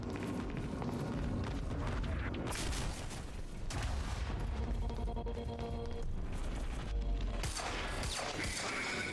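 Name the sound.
submachine gun firing in Quantum Break video game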